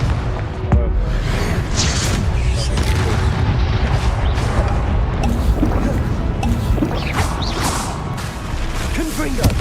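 Confringo spell blasts in Hogwarts Legacy go off in quick succession, loud booming bursts mixed with crashing, mechanical clatter over steady game noise throughout.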